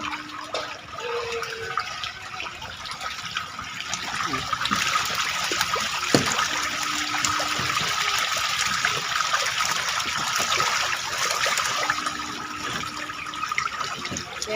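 Striped catfish thrash at the surface of a farm pond while feeding, making a loud, continuous wash of splashing and churning water that swells in intensity.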